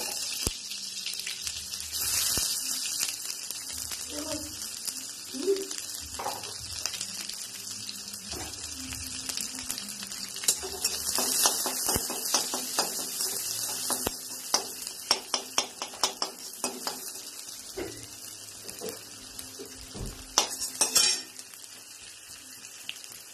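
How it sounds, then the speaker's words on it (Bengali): Half-sliced onion frying in oil with a Bengali five-spice tempering, a continuous hiss of sizzling with clusters of spatula scrapes and clinks against the pan, moderately loud and close, no talking. "পেঁয়াজটা হালকা ভাজা হয়ে গেছে"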